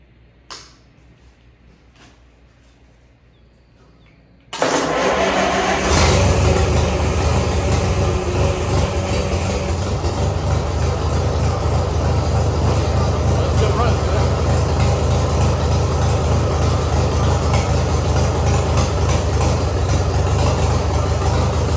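A 1959 International 340 tractor engine cranks and catches after a quiet stretch with faint movement, then runs steadily at a loud, close, rumbling idle for the rest of the time.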